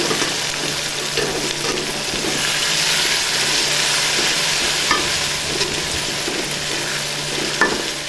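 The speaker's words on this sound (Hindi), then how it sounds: "हरी मिर्चें डालेंगे। अच्छे तरीके से फ्राई करेंगे।" Green chillies fry in oil in a pan for a chana dal and bottle gourd dish, giving a steady, loud, close sizzle with a faint stirring scrape. There is no talking.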